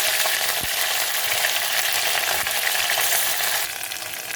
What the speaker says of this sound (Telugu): ఇప్పుడు అందులో కరివేపాకు, ఆనియన్స్ వేసుకున్నాం.